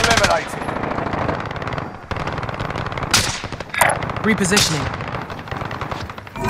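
Automatic and single gunfire crackles through a Call of Duty: Modern Warfare firefight, sustained and dense with loud bursts and a sentry gun firing, mixed with game radio voices speaking over it.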